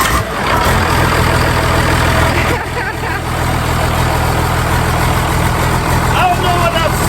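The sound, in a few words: diesel engine running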